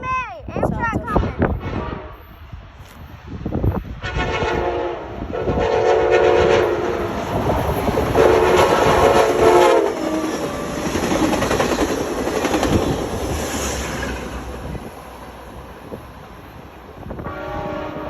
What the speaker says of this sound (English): Mommy, Amtrak coming.